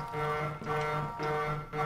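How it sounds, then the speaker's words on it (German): An alarm goes off in the horror video game Erie, a steady electronic tone pulsing in a repeating cycle at moderate volume with no voices over it. "Jetzt ist der Alarm losgegangen."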